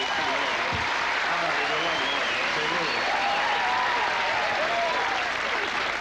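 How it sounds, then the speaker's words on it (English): A comedy club audience gives a big round of applause as comedian Louie Anderson is introduced, with dense continuous clapping and some cheering throughout, loud and sustained for the full six seconds. "Give him a big round of applause."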